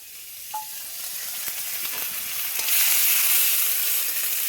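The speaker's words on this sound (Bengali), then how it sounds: "মশলাটাকে না ভালো করে কষতে হবে" Ginger and garlic spice paste sautéing in a pan, a close bright sizzle that swells louder toward the end, with a faint clink near the start.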